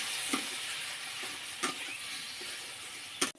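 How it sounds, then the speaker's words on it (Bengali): Fish sizzles steadily in hot oil in a pan, with a few sharp scrapes and knocks of a stirring utensil breaking through the constant frying hiss, the loudest near the end. "মাছটা কষানো হয়ে গেছে"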